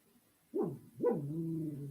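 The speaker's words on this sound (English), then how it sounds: "I don't know what our dog's making noise about." A pet dog at home gives two short, close barks, the second stretching into a drawn-out, whiny howl, with no talking.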